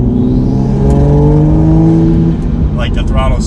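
A tuned Toyota A90 Supra making about 450 wheel horsepower revs under light throttle on an aggressive engine map, producing a loud, close, droning engine tone that climbs and holds before easing off.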